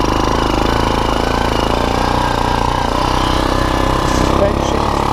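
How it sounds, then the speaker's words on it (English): A fire-damaged 2001 Kawasaki Bayou KLF 300 ATV engine running while being ridden, a loud, steady, rumbling drone close by that holds an even pace throughout. "This is a nice romping bike."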